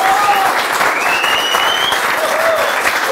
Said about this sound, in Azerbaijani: Heç kimi belə alqışlamayıb bana.